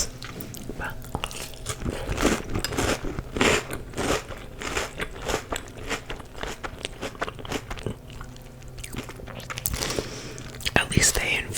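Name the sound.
eating crunchy Trix cereal, ASMR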